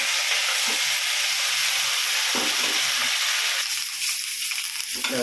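Curry leaves sauté in hot oil for a pickle, making a loud, continuous hiss and sizzle up close with faint stirring knocks underneath.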